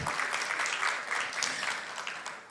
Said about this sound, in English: Please give yourself, as well as everyone around you, a big round of applause